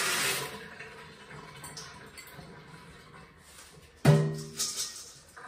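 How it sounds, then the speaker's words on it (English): Dried beans are rinsed under tap water in a kitchen sink. The water rushes and splashes steadily, and a sharp clink and a louder surge of splashing come partway through. There is no talking. "You always wanna make sure and rinse your beans though."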